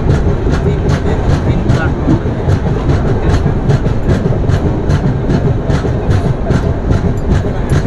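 The Shalimar–Visakhapatnam superfast express, train 22853, rolls into Vizianagaram station with a loud, close, rhythmic clickety-clack of wheels over rail joints above a heavy, continuous rumble.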